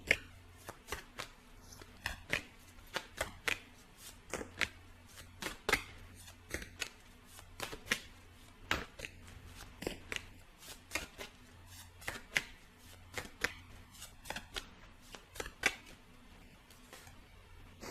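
Tarot cards are shuffled and handled close by, giving repeated sharp riffling snaps and soft slides in an irregular rhythm over a quiet background, with no talk.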